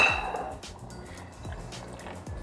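Thick spaghetti sauce glugs and drips from two jars into a cooking pot for Filipino spaghetti, with soft wet splats and low thuds at intervals, moderately close.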